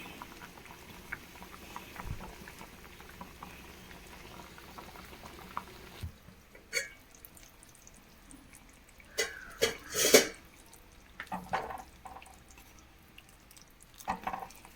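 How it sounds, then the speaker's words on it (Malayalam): A pot of shark curry soured with kudampuli bubbles quietly on medium flame, soft steady simmering broken by several louder pops and gurgling bursts. "കറിയൊക്കെ നന്നായി തിളച്ച് വന്നിട്ടുണ്ട്"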